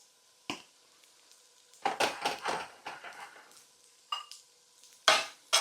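Penne pasta with cream and smoked salmon being stirred in a pan, with close, bursty scraping strokes over a soft sizzle, a few separate pushes and then a longer run of stirring.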